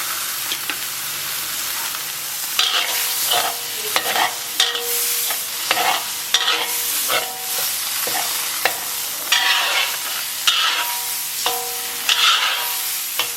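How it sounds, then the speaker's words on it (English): Garlic and chili paste sizzles in a pan while being stirred, with a steady frying hiss broken by repeated scraping and clanking strokes of the utensil; close and fairly loud, no talk. "So now I'm going to stir this up and cook it for a little bit."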